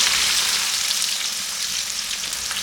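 Spring onion whites and onions stir-fry over high heat for egg Hakka noodles, giving a loud, dense, continuous hiss of frying close to the microphone with no voices.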